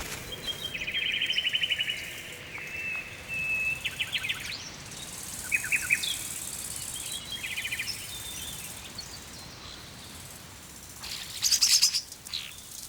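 Starlings calling with repeated chirps, whistles and short tweets in scattered bursts over a steady background hiss.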